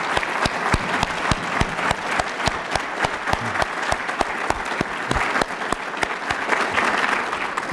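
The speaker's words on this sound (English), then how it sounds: "So how about an applause for my wife, Sarah?" An audience at a business award event breaks into enthusiastic applause, a close, dense spread of clapping with a steady rhythmic clap cutting through near the front, lasting several seconds without speech.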